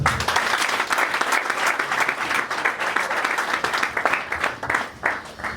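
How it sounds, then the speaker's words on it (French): Steady, dense applause from an audience at a political party gathering in Kinshasa, many hands clapping at close range with a continuous, even texture throughout. "Il faut les applaudir."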